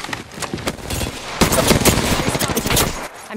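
Rapid gunfire from a firefight in Apex Legends rattles close and loud in dense, uneven bursts that run almost the whole time.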